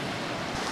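Ocean waves rushing in with a fast incoming tide at a coastal landscape spot, a dense steady wash of surf mixed with wind buffeting the microphone, brief and moderately loud.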